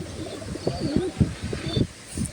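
Pigeons coo close by in a run of soft, throaty, rolling calls, several overlapping over a quiet background.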